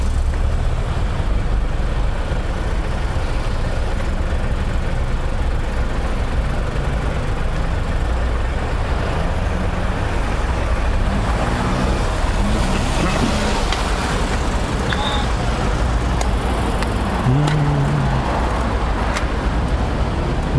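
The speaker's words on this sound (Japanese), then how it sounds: "渋滞してるな。" Congested road traffic passes on a route between Amakusa and Matsubase, a steady low rumble of idling and rolling engines with tyre noise and faint whines, loud and continuous throughout.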